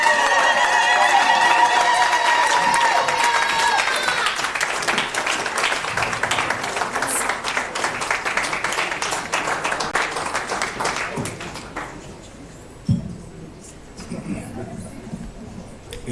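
Audience at a live network session event clapping and cheering, loud sustained applause with ululation-like high calls early, then thinning into scattered claps and crowd noise toward the end.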